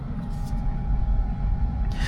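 A Tesla electric car driving with no engine noise, only a steady low road rumble and a faint whine inside the cabin, continuous and even throughout.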